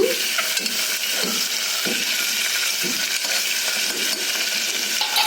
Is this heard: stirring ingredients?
yes